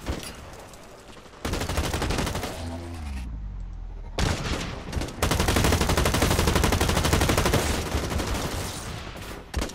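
Pistol gunfire and heavy battle noise in the online shooter Blacklight Retribution, dense volleys of shots with a brief lull and a sweeping tone midway, then sustained loud firing.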